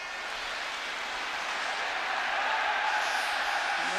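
Football crowd applauding in a large stadium at a UEFA Cup final between Anderlecht and Spurs, a broad sustained wash of clapping and crowd noise from a distance, steady throughout.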